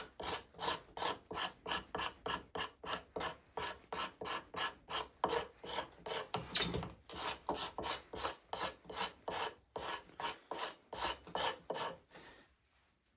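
A tool scrapes a wooden foot stool tenon in a steady rhythm of about thirty quick, close rasping strokes, each a short gritty pull followed by a brief gap, continuing evenly before tapering off, with no voices.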